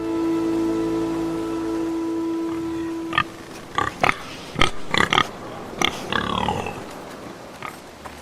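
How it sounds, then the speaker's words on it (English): Pig in Telltale's Game of Thrones video game: after a steady tone, a series of short close grunts and oinks arrive in irregular bursts over a faint background. "What's this pig do? Hey pig."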